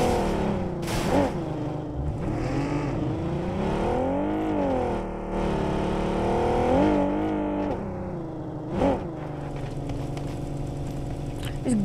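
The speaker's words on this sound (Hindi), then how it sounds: "इस गाड़ी की कितनी फटी हुई आवाज है कसम" A car engine in PUBG Mobile drives with a rough, ragged drone that rises and falls as the vehicle revs and shifts, staying loud and close throughout with a few sharp bumps.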